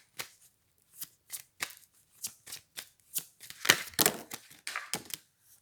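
Oracle cards being shuffled by hand in a series of crisp riffling bursts, close and clear, separated by brief pauses and picking up pace toward the end, with no talk over them.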